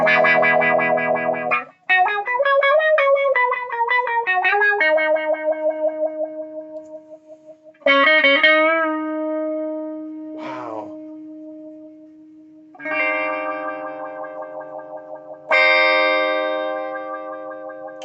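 Electric guitar run through an oddball effects pedal with a light flutter setting, strummed chords ringing out with wavering, processed sustain that drops away and swells back; one brief exclamation from a voice.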